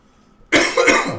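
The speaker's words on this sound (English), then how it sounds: "Oh my gosh, I've got a tickly cough all of a sudden." One short, sharp tickly cough bursts out close by after a moment of near silence, followed by a brief raspy trailing breath.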